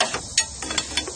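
A ratchet on a 36mm socket wrench clicks as it works during a radiator replacement on a 2004 Chevy Trailblazer, about half a dozen quick uneven metallic ticks, close up, with no voices.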